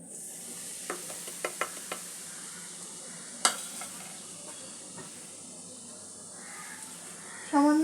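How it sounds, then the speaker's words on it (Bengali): Ground chili powder, Kashmiri chili powder and turmeric fry in oil for a cauliflower curry, giving a soft, steady sizzle with a few light spoon taps and scrapes early on, no talking. "মশলাটা আমি তেলের মধ্যে দিয়ে একটু কষে নেব।"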